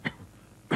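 Two short, dry coughs or throat clears, one at the start and one at the end, separated by a quiet pause.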